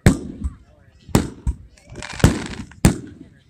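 Fireworks burst at a fireworks event, four sharp loud bangs spaced about a second apart, each followed by crackling and fizzing, with smaller pops between them.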